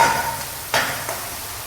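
Garlic-ginger paste sizzles in hot oil for a spicy Bhogi vegetable dish, with a soft continuous hiss broken by two quick stirring scrapes.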